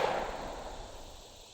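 A single 7.62x39 full metal jacket round fired from an AK-47 Vepr rifle at a steel plate, heard as a sharp report at the onset that fades into a long outdoor decay.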